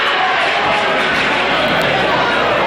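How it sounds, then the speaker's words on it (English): Large basketball crowd filling a high school gym for a Highlands vs New Castle game, a steady dense roar of chatter and cheering throughout, with a commentator talking over it. "It's a big crowd, both sides, full and engaged."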